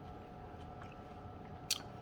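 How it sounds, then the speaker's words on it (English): Close, quiet chewing of crispy zero-carb curry chicken fingers with an oat batter crust, soft steady mastication with one brief sharp crunch near the end. "Everybody loves filming themselves chewing."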